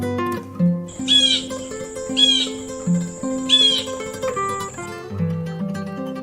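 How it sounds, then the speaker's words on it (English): Blue jay calling: three harsh, raspy calls spaced about a second apart ring out clearly over soft background music. "Blue jay."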